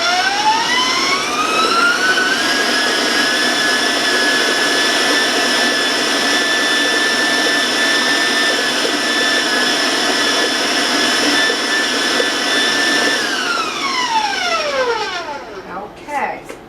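An electric mixer beats chocolate fudge cake batter at high speed, its whine climbing in pitch, holding a loud, steady drone for about ten seconds, then winding down as it slows.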